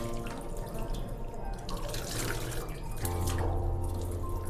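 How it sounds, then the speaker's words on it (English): Tap water runs continuously into a hospital sink as hands and forearms are rinsed up to the elbows, a steady close splashing wash with small shifts in spatter and no speech. "First, we want to rinse our hand till the elbow."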